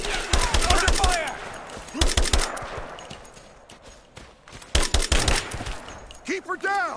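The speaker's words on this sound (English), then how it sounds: "Give me suppressing fire! Now! Cool. Under fire!" Loud gunfire in a firefight: rapid bursts of automatic shots in clusters, close and harsh, separated by quieter stretches, with shouting voices mixed in during the battle.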